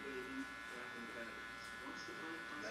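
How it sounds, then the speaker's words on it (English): Electric hair clipper with an adjustable guard buzzing steadily as a barber cuts a fade at a barber college, the lever closed at the bottom and opened gradually going up; someone talks over the continuous hum. "I close my clipper first, and then I slightly open up as I go up."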